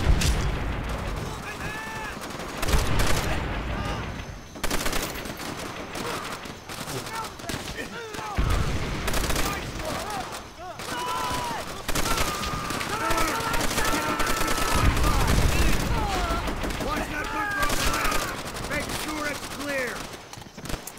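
Bursts of rifle and machine-gun fire rattle through a Call of Duty: World at War battle, loud and near with repeated volleys, and a voice talks in between and over the shots.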